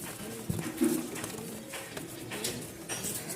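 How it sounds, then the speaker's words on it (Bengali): Pigeons coo close by in a pen at a pigeon sale, a couple of low throaty coos over faint background rustling and distant noise. "সম্পূর্ণ ফ্রেশ একটা কবুতর জোড়া দিলাম"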